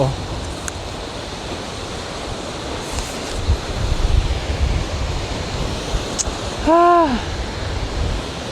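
Wind and surf roll in at an island shoreline on Guiwanon Island, a constant broadband rush buffeting the mic, with a brief human voice rising over it near the end.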